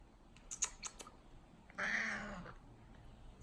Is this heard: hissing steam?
no